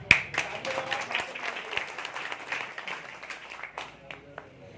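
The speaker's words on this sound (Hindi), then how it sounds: "मजा नहीं आ रहा दोस्तों, ताली होगा।" A crowd claps at a gathering welcoming a speaker, a sharp clap opening a run of steady hand claps that thins out near the end, moderately loud with voices mixed in.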